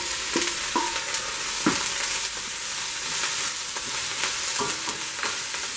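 Herbs and broccoli sauté gently in a pot on low heat for an Alfredo pasta, with a continuous soft sizzle broken by scattered light scrapes and taps of a stirring spoon.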